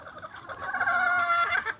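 Chickens in a coop, brief close clucking and warbling calls lasting under two seconds, over a faint background hiss.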